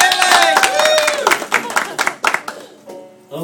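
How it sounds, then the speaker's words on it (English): Applause for the first contestant at a farm-animal impression show: a small group claps in a brief, close patter while voices talk and call out over it, fading toward the end. "applause for our first contestant,"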